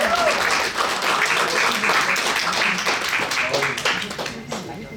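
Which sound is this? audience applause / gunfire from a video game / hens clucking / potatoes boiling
audience applause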